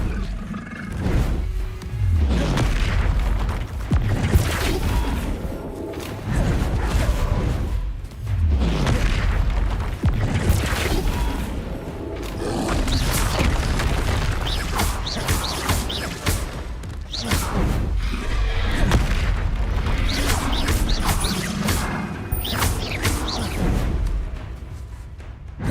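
Repeated booming spell impacts from Flipendo casts in Hogwarts Legacy, heavy thuds and whooshing bursts recurring every few seconds over a loud, continuous rumble of game action, with no clear voices.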